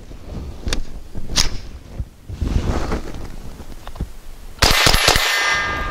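Aguila 30 grain Super Maximum ammunition fires with sharp, loud reports. Lighter metallic clanks come first, then one strong blast near the end.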